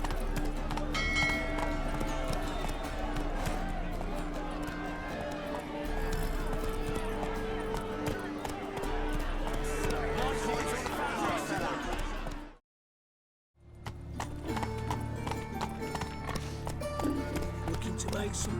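Roach the horse gallops in The Witcher 3, hooves clip-clopping in a steady rhythm under music and voices, with a brief full silence near the end before the sound resumes.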